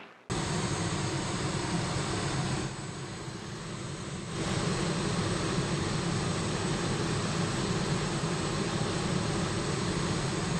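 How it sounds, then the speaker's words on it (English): A Me 163 Komet rocket plane in a war film, heard as a loud, continuous roaring engine rush that stays steady throughout, dipping slightly for a moment midway before returning to full force. "That is a rocket, gentlemen."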